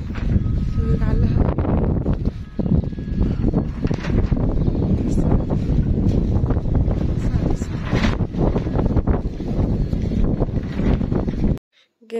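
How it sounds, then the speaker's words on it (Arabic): A plastic sheet flaps and thuds steadily in strong gusting wind, loud and close, with heavy wind rumble throughout before it cuts off at the end. "فكتر الهوا والدب والرزع في قلب المشمع عامل صوت فظيع"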